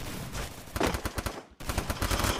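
Gunfire in the video game Garena Free Fire, with rapid bursts of close, sharp shots broken by a short pause before firing resumes.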